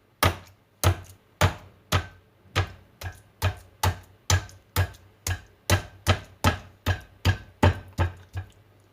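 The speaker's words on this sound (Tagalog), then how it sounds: "All we have to do is punch the chicken breast using this hammer punch." A meat hammer pounds a raw chicken breast in a kitchen, about seventeen steady, evenly spaced thuds close to the microphone with no talking.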